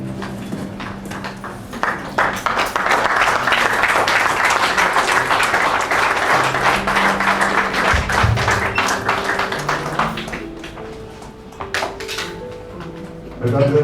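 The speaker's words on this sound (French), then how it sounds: "Sous vos acclamations, s'il vous plaît." Guests at a civil wedding ceremony applaud as the district mayor arrives, loud sustained clapping with some tonal sounds and voices mixed in, fading toward the end before a few louder knocks.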